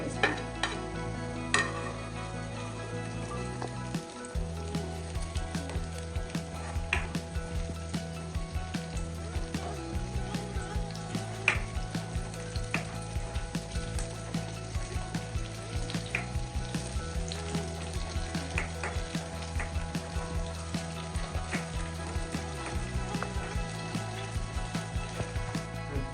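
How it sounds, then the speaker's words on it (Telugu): Green chillies frying in a pan with onions for goat head curry, a continuous close sizzle with frequent stirring scrapes and clinks from the spoon against the pan, no talking. "ఇప్పుడు మనం కట్ చేసి పెట్టుకున్నాం ముందుగానే పచ్చిమిర్చి కూడా వేసుకుంటాం."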